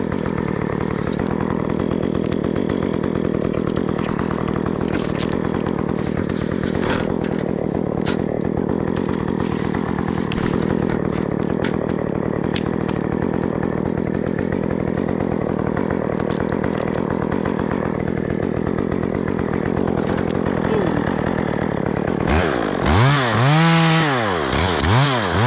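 A chainsaw engine, its carburetor recently removed to fix a seal, runs steadily up close while warming up toward idle, then revs sharply in a few rising and falling bursts near the end.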